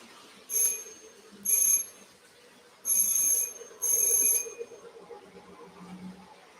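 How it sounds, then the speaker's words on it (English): A model train sounds its warning bell four times, each ring a bright, metallic burst of about half a second, spaced at uneven gaps and fairly close, over a faint low rumble. "I'll give it a warning bell."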